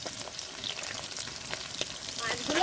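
Pieces of bata fish fry in hot oil with a steady, dense sizzle and crackle that builds slightly louder toward the end, with no voices over it.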